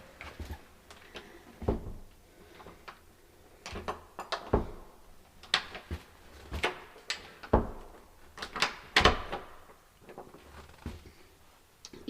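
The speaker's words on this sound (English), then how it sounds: "in order to close the door," Dull knocks and clunks from a door in a newly moved-into downtown apartment, a series of irregular thuds and rattles spread across the stretch, fairly quiet against a hushed room.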